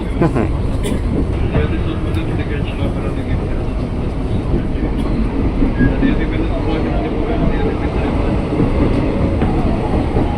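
An electric KRL commuter train built by INKA rumbling steadily along the track near Pasar Minggu station, a constant loud roar with faint rhythmic clatter and some muffled voices underneath.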